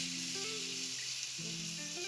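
Thinly sliced onion sizzles steadily in a hot pan for vegetable chow mein, a continuous close frying hiss with faint tonal kitchen hum underneath and no voices.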